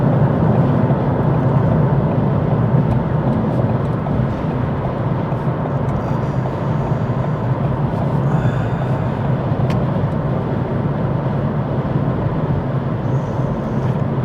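Steady, continuous road and engine rumble from a car cruising at 70 mph on a motorway, loud and unbroken throughout with no talking.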